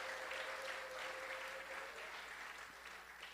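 A church congregation applauds steadily throughout, producing a dense, distant wash of clapping. It is fairly quiet, with a faint sustained tone running under it and no clear voices.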